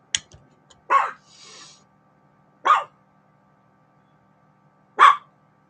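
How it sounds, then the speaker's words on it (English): A dog barks three separate times, short and clear, with long quiet pauses between each bark in an otherwise silent space. "what you barking at"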